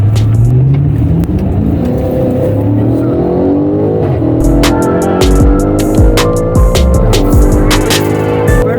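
A BMW M5 engine revs and accelerates hard through rising gears, loud and close from inside the car, with people talking over the roar.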